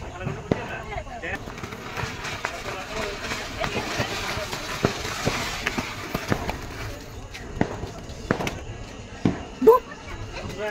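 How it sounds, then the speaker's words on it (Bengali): Diwali firecracker bombs set off outdoors in Morigaon, Assam, giving a string of sharp, scattered pops and bangs of varying loudness over a steady bed of background crowd noise. "এখানে আবার আমি একটা বম ফুটাচ্ছি"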